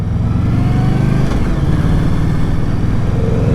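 Indian Scout Bobber motorcycle engine running loud and close, a steady, throaty drone with a slight rise in pitch partway through and no voices.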